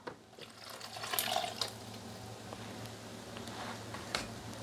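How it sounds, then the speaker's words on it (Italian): Water is poured into a Thermomix bowl, a continuous close splashing and trickling stream lasting several seconds with a few louder gurgles, no voices. "Aggiungere l'acqua."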